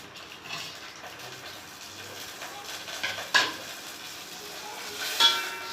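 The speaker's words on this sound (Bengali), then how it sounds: "ভাজা শুরু করেছি, আস্তে আস্তে সিওয়েটা ভাজা হচ্ছে।" Vermicelli fries gently in sunflower oil in a pan for a sweet payesh, a soft continuous sizzle with occasional stirring scrapes and a couple of sharper clinks, no voice heard.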